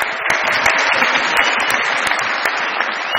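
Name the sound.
audience applause for Khan Sahib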